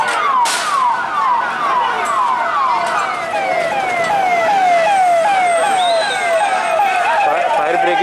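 Fire brigade vehicles arrive at a burning transport godown, their sirens wailing in rapid repeated sweeps, loud and close, with a second siren tone rising over the scene.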